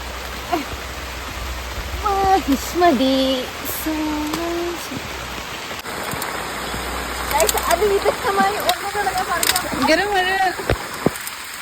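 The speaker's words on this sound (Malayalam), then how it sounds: "നല്ല നല്ല പെരുമഴ പെയ്യുന്നുണ്ട്" Heavy rain hisses steadily on surfaces throughout a vegetable harvest, with people talking over it.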